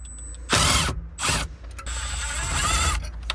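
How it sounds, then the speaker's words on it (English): A Phillips screwdriver on an extension ratchets in quick bursts while backing radio screws out of a Subaru Outback dashboard, close and crisp with short clicking runs separated by brief pauses. "grab your Phillips screwdriver. There's going to be 4 screws."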